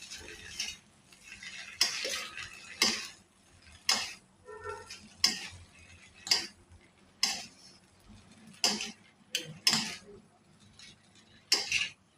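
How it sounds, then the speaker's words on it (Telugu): Egg noodles being stirred and mixed in a pan, with a utensil scraping and clinking against the metal in uneven strokes every second or so, close and fairly quiet. "ఇలాగ మొత్తం కలుపుకోవాలి బాగా కలిసేలాగా కలుపుకోవాలి"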